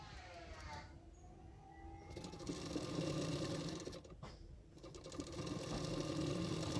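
A sewing machine stitches the seam of a boat neck princess cut blouse, its close, steady mechanical whirr running almost continuously and dipping briefly midway before picking up again. There is no clear speech.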